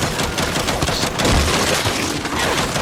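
Enemy turrets in the video game Gears 5 fire in dense, sustained bursts of rapid automatic gunfire. Heavy booms underneath keep the fighting loud and chaotic for the whole stretch, with no voices.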